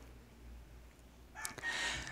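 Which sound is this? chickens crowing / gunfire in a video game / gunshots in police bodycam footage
chickens crowing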